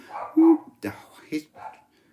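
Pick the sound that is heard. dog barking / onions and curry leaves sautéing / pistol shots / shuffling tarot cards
dog barking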